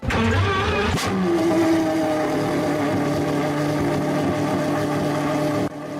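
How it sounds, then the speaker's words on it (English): Pagani Huayra R engine starting in the Driving Empire game, a sharp crank then a loud, steady roaring idle held for several seconds, close and alone. "Pagani Huayra R has the loudest startup in the game"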